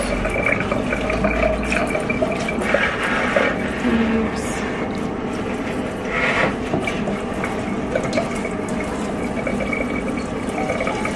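Warm water poured steadily from a container into potted plants, a continuous splashing and trickling that runs unbroken from start to finish and sounds close by.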